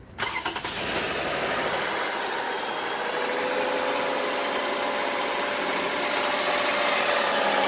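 A car engine cranks and catches, then settles into a steady, even idle nearby, humming continuously with no one talking.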